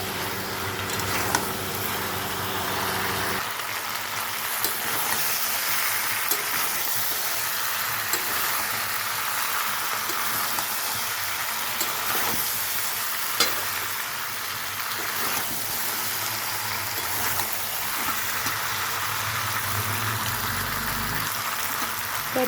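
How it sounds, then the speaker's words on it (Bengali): Mutton and potatoes are stir-fried in a pan with a constant hissing sizzle. Occasional stirring scrapes and clinks cut through the sizzle, and there is no talking. "আলুগুলো দিয়ে এখন আমি এটাকে ভালো করে কষে নিচ্ছি।"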